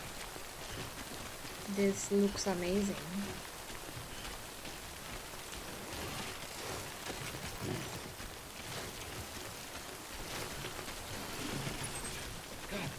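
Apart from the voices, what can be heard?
rain in the video game Death Stranding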